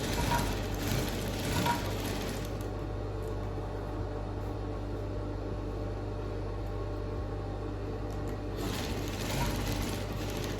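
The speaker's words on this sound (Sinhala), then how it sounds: "මහන්න පටන් ගන්න." A sewing machine stitching fabric for a party dress runs steadily and close up, a continuous mechanical whir with a low hum underneath and faint clicks, speeding up slightly near the start and end.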